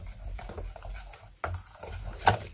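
Homemade organic acne face wash ingredients being stirred together in a container, a few soft scraping swirls with a brief clink near the end, close and fairly quiet.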